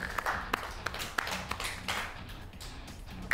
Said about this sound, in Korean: 박수 나왔다